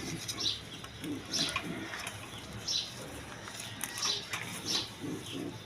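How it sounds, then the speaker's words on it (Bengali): A pair of high-flying Giribaz pigeons, kept with chicks and eggs, give soft repeated coos in short bursts about every second, close by over a low background hum. "এখানে এক পেয়ার হাই ফ্লাইং গিরিবাস কবুতর আছে"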